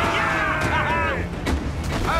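Ship cannons fire in the pirate game Assassin's Creed 4 Black Flag, a dense, loud boom and blast layered under music and shouted voices, with several heavy reports close together.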